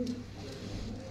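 Pigeons in a loft cage give a brief, faint low coo against quiet background noise.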